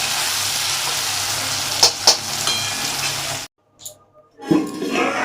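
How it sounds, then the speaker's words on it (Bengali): Onions fry in a pan for soybean curry, a loud steady sizzle for about three seconds with a couple of scraping stirs, then a short silence before the hissing resumes. "এদিকে পেঁয়াজ ভাজা হচ্ছে"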